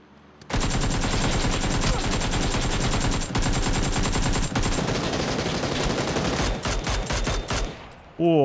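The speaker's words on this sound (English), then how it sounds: "not my finest shooting" Sustained rapid automatic gunfire in PUBG, loud and dense with shots in close succession for several seconds, then breaking into shorter bursts before stopping abruptly.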